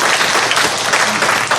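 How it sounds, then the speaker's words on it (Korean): A church congregation claps at a Wednesday service lecture in a loud, dense burst of applause that runs continuously through the short stretch without a break. "이럴 때 이렇게 박수 치는 게 아니에요."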